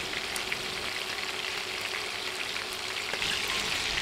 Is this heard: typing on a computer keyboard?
no